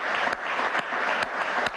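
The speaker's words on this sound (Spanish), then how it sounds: "Vamos a darle un aplauso." Audience applauding for a retiring female admiral-in-chief of the Venezuelan armed forces, dense continuous clapping from a large crowd, steady and loud throughout.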